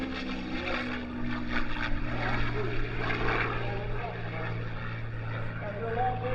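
A propeller airplane drones steadily overhead at the Fort Wayne Air Show 2025. The engine roar holds loud and continuous for several seconds while a voice talks over it.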